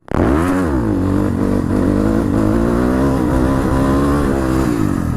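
Dirt bike motorcycle engine revving loudly and continuously up close, the pitch rising and falling through throttle blips, with no talk over it.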